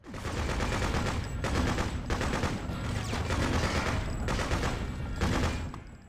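Rapid, continuous bursts of gunfire in the video game Freedom Fighters, with a flat, thin crackle, repeating steadily throughout with brief surges and no pauses.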